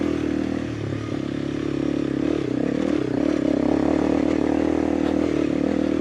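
A motorcycle climbing a rocky trail at Turkey Creek drones steadily as the throttle is held open, its close engine note wavering with light clatter and scraping over the rocks.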